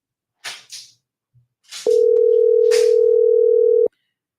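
A steady, loud telephone dial tone sounds for about two seconds after a few short, soft rustles and clicks, while a call is being placed.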